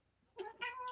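A cat gives a couple of short, close meows in quick succession after a brief quiet moment, clear and fairly soft, with no talking over them.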